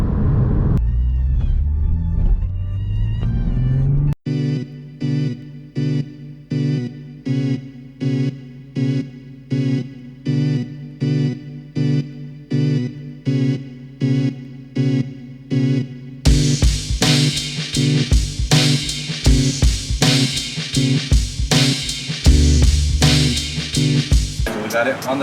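A stock 2020 Toyota Supra A90 runs on a dyno, idling at first, then pulsing in a steady series of revs before a loud, sustained pull with rising engine roar.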